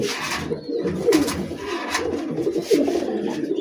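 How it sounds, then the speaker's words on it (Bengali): A male green-necked pigeon coos repeatedly right after a female is placed with him, the soft throaty calls rising in short bursts close by over a steady background murmur. "মাদি দেওয়ার সাথে সাথে কিন্তু ডাকাটা কি শুরু কেমন হলো"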